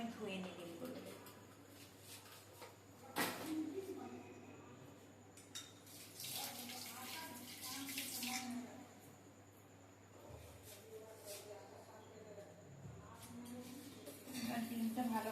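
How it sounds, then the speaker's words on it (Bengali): Eggs washed under a running kitchen tap: soft splashing water with clinks of shells and dishes, strongest in a short burst midway, while a voice talks quietly throughout. "তাই জন্য আমি ধুয়ে নিই ডিমগুলো।"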